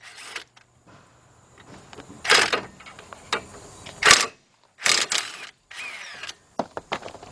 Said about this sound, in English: take your same 15mm deep with your cordless impact